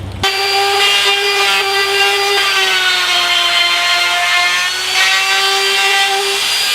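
A power saw cuts through oak to trim about a quarter inch from a small nightstand tabletop, giving a loud, steady whine with a sharp start and a slight dip in pitch partway through.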